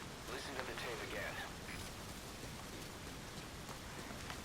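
Steady rain falls in a dark night scene of the video game Metal Gear Solid Ground Zeroes, a continuous hiss that holds constant behind brief faint game sounds.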